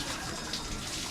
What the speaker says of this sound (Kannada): ನಂದಿಯಿಂದ ನೀರು ಬರ್ತಾ ಇದೆ